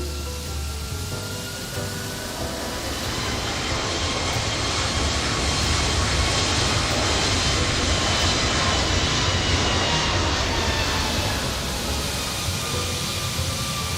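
A Toliss A321 airliner in X-Plane 12 touches down and rolls out, making a loud, steady broadband roar of engines and rushing air that holds on without a break, alone with no voices.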